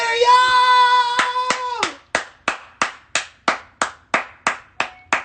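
At an award event, a long sustained shout opens before a crowd settles into loud, sharp claps in a steady, evenly spaced rhythm, roughly three per second.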